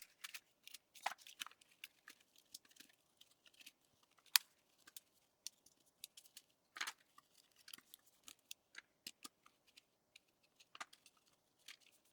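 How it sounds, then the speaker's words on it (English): Paper being trimmed with scissors while organizing art supplies, heard as a faint, irregular series of small snips and crisp paper rustles spread across the clip, with no talking. "you can trim the paper and or fold the excess under"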